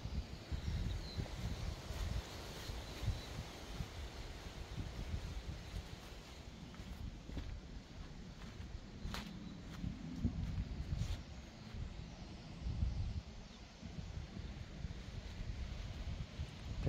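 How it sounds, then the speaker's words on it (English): Steady wind buffets the microphone outdoors at a priory cemetery at night, a continuous low rumble with rustling gusts and no clear talk. "It's very windy."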